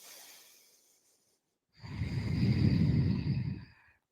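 A yoga practitioner takes a single long, audible breath during a vinyasa power yoga pose, a soft airy exhale swelling and fading after a faint earlier breath, close and otherwise quiet.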